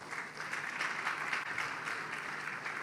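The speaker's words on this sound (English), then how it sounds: "Why don't you give Pastor a round of applause?" An audience applauds a pastor with a continuous wash of clapping. The applause is soft and distant and stays fairly even for a few seconds.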